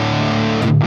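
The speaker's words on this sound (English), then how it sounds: "And they add a very nice color and distortion" Electric guitar played through a distorted metal amplifier, a dense sustained buzzing chord with a brief change near the end, loud and alone.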